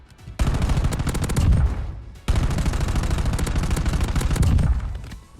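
Rapid automatic gunfire from the video game Warzone, two sustained bursts of dense, loud shots separated by a brief pause, with no talking.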